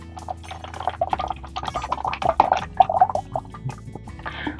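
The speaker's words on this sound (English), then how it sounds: "All you do is pour that in just like that." Clear colonoscopy prep solution poured from its bottle into a container, a faint irregular run of drips, glugs and liquid splashes close by, with no one talking.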